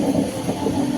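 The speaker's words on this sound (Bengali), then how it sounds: "ওই যে স্টেশনে ট্রেন, একটা ট্রেন এসছে, এটা ওই লাইনে 2 নম্বরে।" A low, steady rumble from a train arriving at platform two of a railway station, heard for a single second at moderate distance.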